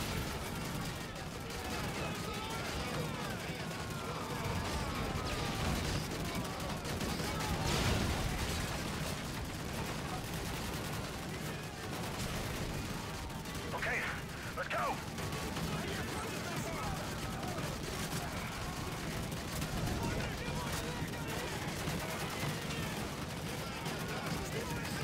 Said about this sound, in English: There's all this gunfire going on.